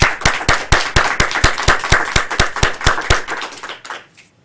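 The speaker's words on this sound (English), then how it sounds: "I'd like a round of applause for both our Toastmaster today, Michelle," A small group claps together for the Toastmaster and General Evaluator at the close of a Toastmasters club meeting, a steady run of sharp, close hand claps for about four seconds that thins out and stops.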